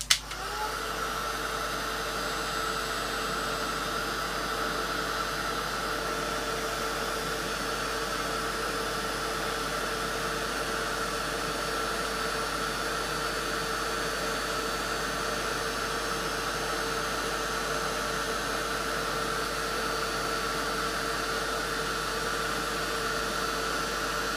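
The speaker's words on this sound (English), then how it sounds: "I'm going to put the heat gun on now" A heat gun blows hot air for heat embossing, a steady, loud whooshing hiss that starts abruptly and holds constant for over twenty seconds with no talking.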